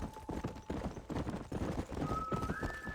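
Horse hooves in the video game Red Dead Redemption, a quick rhythmic clip-clop of a galloping mount over several seconds, with faint tonal game sounds in the background.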